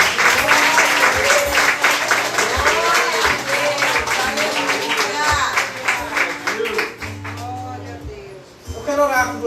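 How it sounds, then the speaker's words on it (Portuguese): Church congregation clapping for the Lord, applause running under loud worship music with sustained chords and rhythmic beats, the crowd sound blending into the band throughout. "Será que você pode dar uma salva de palmas ao Senhor?"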